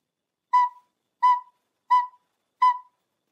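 Four short, evenly spaced quarter notes are played on a recorder, each a clear breathy tone on the same pitch that stops cleanly, heard alone against silence.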